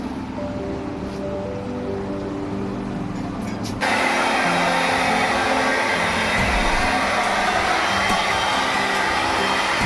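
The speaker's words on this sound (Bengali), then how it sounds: "এবার একটু আমরা ড্রায়ার দিয়ে একটু শুকিয়ে নেবো মাথাটা" A hair dryer is used to dry hair for a straightening tutorial. A low hum at the start gives way to a loud, steady rushing blow after about four seconds, and it continues evenly to the end.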